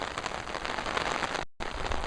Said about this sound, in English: now the temperature is warmed up enough that it's just raining